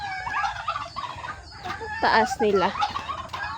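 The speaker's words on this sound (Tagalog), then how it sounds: "It's turkey. Turkey, right?" Turkey on a countryside farm in the Philippines, a short burst of gobbling calls among other fowl clucking nearby, with a person speaking briefly.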